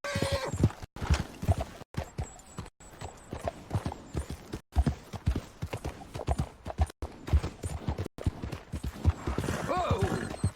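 A horse in Red Dead Redemption 2 gallops with rapid, rhythmic hoof clops that are close and continuous, with a brief whinny near the end and scattered quiet talk.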